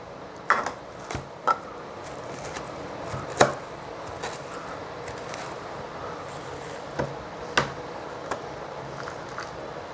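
Knife chopping vegetables on a cutting board for a vegan Mediterranean pasta salad, a handful of sharp, irregular close taps spread over a quiet kitchen background.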